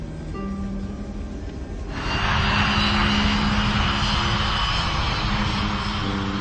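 An Ethiopian Airlines airliner on flight 961 throttling up for takeoff, engine drone swelling at the two-second mark into a loud, steady roar that holds.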